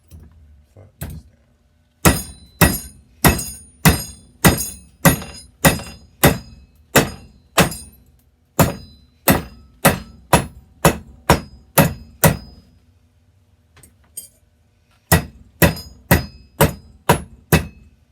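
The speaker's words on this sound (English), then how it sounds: "Sledgehammer, flatten this down." A sledgehammer flattens a metal fork for a fish wind chime. Loud, sharp strikes fall in steady rhythmic runs, broken by short pauses.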